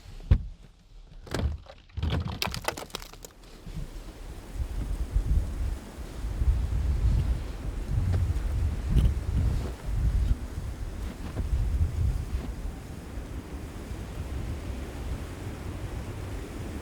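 Steady wind roars and buffets outside during a snowstorm, a loud continuous rush with a few sharp thumps near the start and no talk.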